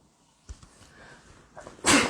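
A person sneezes once, sharp and close, at the very end, after a few quiet breaths and small rustles.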